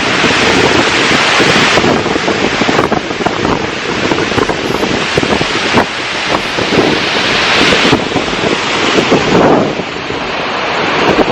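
Nugget Falls, the waterfall near Mendenhall Glacier in Juneau, roars as a loud, continuous broadband rush, heavily buffeted by wind noise on the microphone, with no voices.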